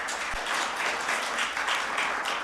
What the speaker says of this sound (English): I'm going to ask you to please hold any applause or booing and hissing until the end